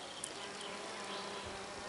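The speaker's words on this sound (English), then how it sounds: "And that's what we call the red mason bee." A red mason bee (Osmia rufa) buzzes steadily and faintly for two seconds, a thin continuous insect drone with no voices.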